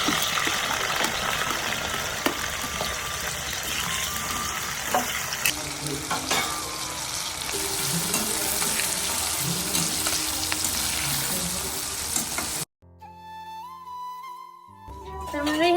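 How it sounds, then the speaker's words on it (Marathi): Onions, cashews, ginger, garlic and tomatoes fry in hot oil for a restaurant-style shahi paneer gravy, giving a loud, steady sizzle with stirring scrapes for most of the time before it cuts off into a quieter tail. "आपल्याला या सगळ्या गोष्टी एकदम चांगल्या प्रकारे फ्राय करून घ्यायच्या आहेत।"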